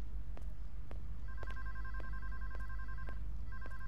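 A telephone rings in the PAYDAY 2 video game during a bank heist, with two-tone trilling bursts repeating over a constant low rumble and sharp clicks.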